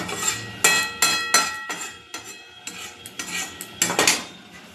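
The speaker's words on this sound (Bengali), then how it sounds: "ভালো করে নাড়ব।" Prawn curry being stirred in a pan, a metal utensil scraping and clinking against the pan in a series of sharp, uneven strokes, close and clear with no talk.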